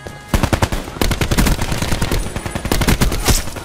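Rapid automatic gunfire from the video game Black Ops 4 in gun game mode, dense bursts of loud, close shots rattling almost continuously with brief gaps, no talk.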